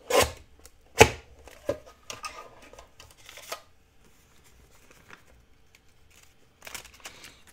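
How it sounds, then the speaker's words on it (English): A paper trimmer slices through a junk mail envelope, giving a few sharp crisp cutting snaps and swishes spaced apart, with softer paper rustles in between, close and fairly quiet. "Let me see if this trimmer will do it."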